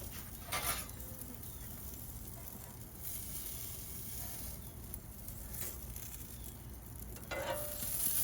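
Salmon sizzles on a gas or charcoal grill just after being flipped, a steady hiss and crackle with a few sharper pops and light clatter throughout.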